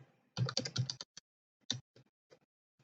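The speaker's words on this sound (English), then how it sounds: "We type anonymous." Keys clatter on a computer keyboard during a terminal session, a dense burst of rapid keystrokes followed by a few scattered, separate taps, close and fairly quiet with no talking.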